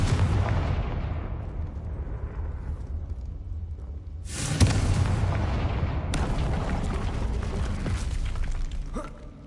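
A fiery Confringo blast in the Hogwarts Legacy video game: a deep booming explosion that rumbles and decays, then a second sharp burst midway, followed by crackling, sustained fiery roar.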